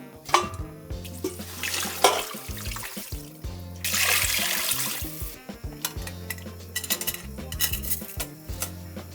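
Water runs and splashes into a large metal pot holding spices and pork hocks amid clinks and clatters of cookware, with a longer burst of pouring in the middle.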